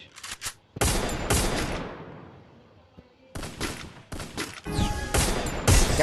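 Rapid bursts of gunfire from the Free Fire video game crack in quick clusters, separated by a short lull and a fading tail, with loud, sharp volleys near the start and end.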